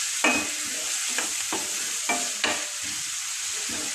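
Cauliflower and cabbage fry in a pan with a soft constant sizzle while a utensil scrapes and stirs through them in several distinct close strokes.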